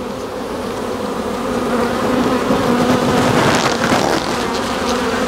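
A close, continuous drone of many honeybees crawling over a hive frame, swelling louder midway and holding thick and even throughout, with no talking.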